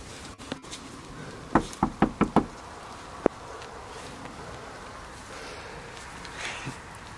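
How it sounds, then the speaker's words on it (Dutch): Knocking on a door: four quick, sharp raps in a tight burst, then one louder single knock a moment later, set against a quiet outdoor background with a faint insect buzz. "Ja, gewoon een keer kloppen."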